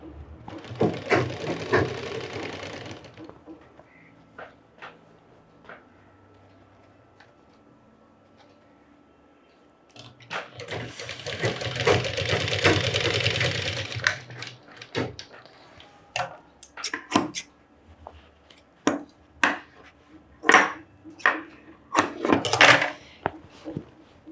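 A sewing machine stitches a box-pleated skirt in short runs: a whirring burst at the start, a longer loud run in the middle, then a series of quick stop-start bursts and clicks toward the end, with no speech.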